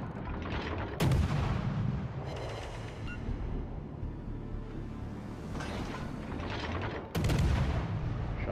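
Heavy naval gunfire from warship main batteries in World of Warships: Legends, with two loud booming salvos several seconds apart over a continuous rumbling battle background.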